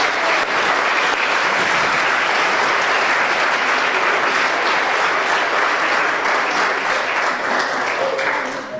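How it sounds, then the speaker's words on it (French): A church congregation at a Christmas Day Mass breaks into sustained, dense applause, many hands clapping steadily and fairly close for several seconds before tapering off at the end. "Je pense qu'on peut les applaudir."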